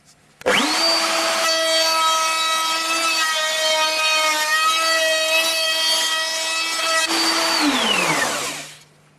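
A power cutter spins up with a rising whine and then bites into a wooden door molding, grinding steadily for about seven seconds as it cuts the rebate, then winds down to silence.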